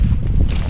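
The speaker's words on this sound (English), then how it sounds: "it's a big and windy day for this" Strong gusty wind buffets the microphone on a high exposed hilltop above an abandoned colliery, a loud continuous low roar with rumbling swells.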